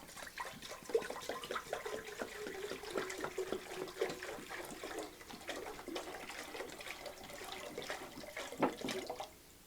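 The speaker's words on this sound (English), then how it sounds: "So we'll go ahead and chop everything, put them with cold water" Cold water pours steadily from a tap into a pot of chopped vegetables and sage for stock, a continuous splashing rush lasting several seconds before cutting off.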